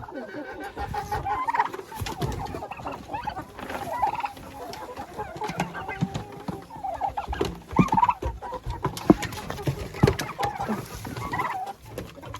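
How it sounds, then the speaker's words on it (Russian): Turkeys clucking and gobbling close by as they snatch freshly cut grass straight from a bucket, with overlapping calls and rustling through the whole stretch. "Нарезала индюкам траву, выхватывают прямо с ведра."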